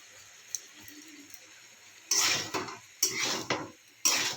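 Spices, soybean chunks and potatoes being stir-fried in a pan, with three loud scraping strokes of a spatula against the metal over a faint background sizzle, with no talking.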